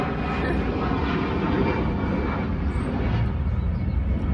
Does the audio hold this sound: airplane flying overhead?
yes